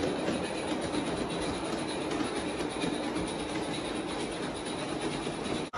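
A steady, continuous rolling rumble and rattle of a large-scale model train running along track, with a faint high whine throughout.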